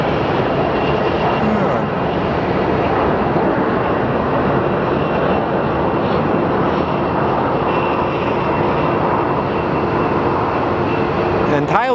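An Airbus airliner's jet engines roar loudly and steadily at Phoenix Sky Harbor airport, a dense continuous wash of noise that fills the whole stretch without letting up.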